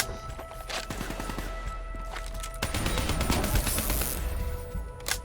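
Call of Duty: Black Ops III gunfire in a fight around cooling towers, rapid bursts of shots and impacts with a denser loud volley toward the end, set against background game sounds.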